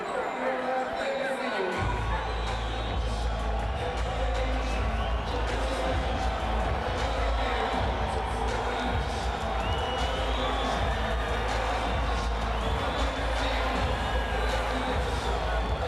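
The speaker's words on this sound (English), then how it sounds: "They don't know whether to cheer or boo, it seems." Boxing arena crowd at James Toney vs Samuel Peter, a dense, continuous roar of mixed cheering and jeering that swells in after a brief quieter start, with a commentator's voice talking over it.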